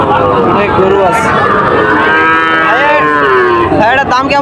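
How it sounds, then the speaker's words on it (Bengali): Cattle at a busy cattle market moo loudly up close, several drawn-out calls overlapping one another, with voices and crowd noise underneath. "অনেক গরু আছে।"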